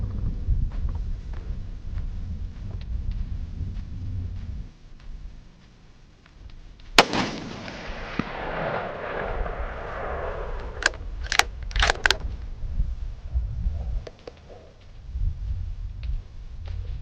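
A Ruger American Gen 2 rifle in .308 fires a tipped Hornady ELD bullet outdoors at a 300-yard range: one sharp, loud crack with a rumbling echo, then a few faint clicks as the action cycles.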